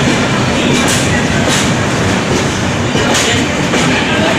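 A passenger train pulling into a station in India, a loud, steady rumble of wheels and carriages with a rhythmic clatter, close and continuous.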